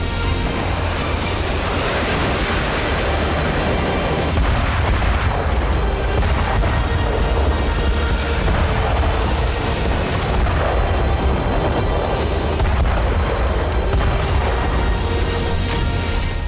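FAB-3000 heavy aerial bombs dropped by a Russian Su-34 fighter on Kyiv: a continuous, loud, deep rumbling roar of blasts and booms that rolls on without pause, with no voices.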